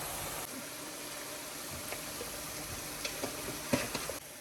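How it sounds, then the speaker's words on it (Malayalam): Two spoons of garlic sautéing in a pan: a steady, soft sizzle runs throughout, dotted with faint clicks and taps of stirring, and no voices. "വഴറ്റി നല്ലൊരു ഒരു 2 സ്പൂൺ വെളുത്തുള്ളി ഇട്ടു."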